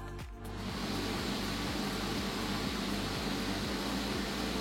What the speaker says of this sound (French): un ventilateur puissant, c'est ça